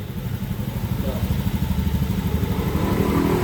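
A Honda Beat FI fuel-injected scooter engine idles steadily at about 1500 rpm with a low, even putter, close and continuous, while it runs rich and smokes black from the exhaust.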